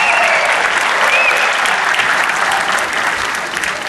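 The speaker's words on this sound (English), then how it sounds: "let's give them one more round of" An audience applauds the homecoming court of honor at a 2013 ceremony, a broad steady roar of many hands clapping at once, loud and continuous before easing slightly at the end.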